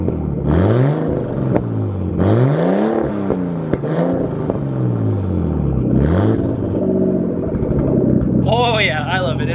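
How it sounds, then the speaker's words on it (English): Nissan R32 Skyline with a new exhaust revs repeatedly, each loud blip rising and falling in pitch over a steady idle rumble, several quick revs in a row up close, ending with a whining high-pitched turbo-like whirl. "I'm gonna let it warm up a little bit and then I'm gonna give it a few quick revs"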